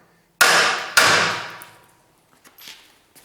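A split window chassis A-frame being struck with a hammer: two loud, close metallic blows, each ringing out and decaying over a second, followed by faint shuffling.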